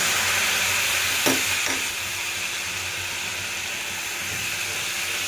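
Blended tomato with garam masala sautés in a pan for pasta, an even hissing sizzle with a couple of quick spoon taps early on, then steady frying alone.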